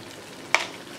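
Bamboo clams cooking in a Padang-style seafood sauce give off one sudden, brief sizzling burst midway through, set over a low, steady background hiss.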